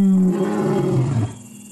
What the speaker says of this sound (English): So when you hear this roar at night,